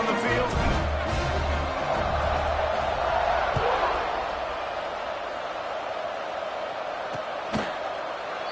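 Broad roar of a football stadium crowd for a Pittsburgh game, a steady wash of distant voices that swells early and eases slightly, with a few sharp thuds near the end.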